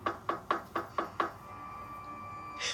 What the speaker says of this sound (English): After a couple of minutes, the banging started again.